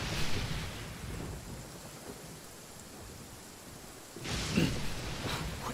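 Steady heavy rain in a Genshin Impact storm, hissing on surfaces throughout, with a loud rumble of thunder at the start and another crack and roll near the end.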